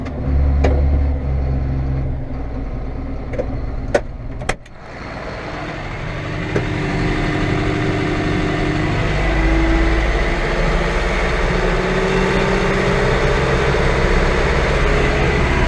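A power shift tractor engine runs steadily during a South Dakota soybean harvest, a loud continuous low drone heard from the cab with a couple of sharp clicks and a brief dip early on.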